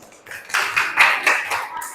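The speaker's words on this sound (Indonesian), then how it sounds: "Kasih aplaus" An audience applauds in a brief, moderately loud burst of clapping, with voices mixed into the sound.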